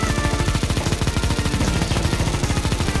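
Negev machine gun from the CS:GO video game firing a loud, unbroken full-auto burst, rapid even shots hammering close up for the whole stretch with no voices.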